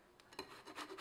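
A lemon is rubbed across a grater to zest it, giving a few soft, quiet rasping strokes close by.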